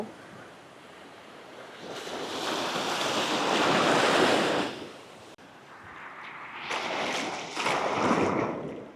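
Surf rolling onto the shore at Cha-am beach, a broad roaring wash that swells and recedes in two long waves, with gusty wind noise on the microphone.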